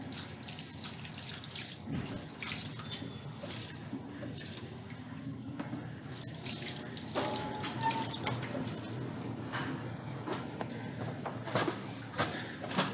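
A tap runs while a beauty blender sponge is wetted under it, giving a steady splashing rush of water with small clatters and shifting splashes throughout.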